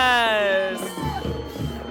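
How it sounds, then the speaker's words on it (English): A real crowd at an international camporee cheering and whooping in the background, with a loud voice talking over it nearby. "these crowd noises, they aren't us. Oh no, there's actually a crowd here"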